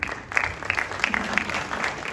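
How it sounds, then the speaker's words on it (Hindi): Audience applause at a Republic Day celebration, a steady wash of clapping from a crowd across the whole stretch, moderately loud with no talk over it. "एक बार जोरदार तालियां हो जाए"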